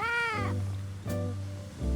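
A cat meows loudly and close, one drawn-out descending cry followed by a shorter second meow and the start of a third, with no talk over it.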